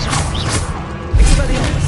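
A Confringo blasting spell strikes in Hogwarts Legacy, landing as a heavy, booming crash with a low thud about midway through, set amid dense, busy game combat noise.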